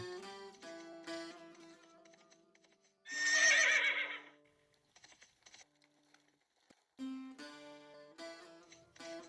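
A horse lets out a loud, full whinny about a third of the way in, a single rich burst standing alone between softer passages of gentle tonal music.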